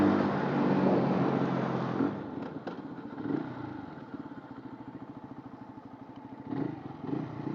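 A Keeway RKF 125 motorcycle is ridden, its engine giving a steady, close droning hum with a pulsing putter and mild swells of revving, heard alone without talk.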